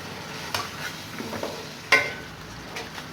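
Spices for a rohu fish curry roast in a pan, giving a quiet background sizzle with a few scattered scrapes and one sharper clack of a spoon against the metal; no talking.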